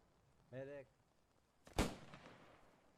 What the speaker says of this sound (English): A lot of grenades being exchanged there.